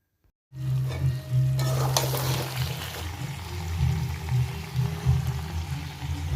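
Chicken kosha stir-frying in a pan at home, a steady loud sizzle with scraping stirs running throughout after a brief silent start.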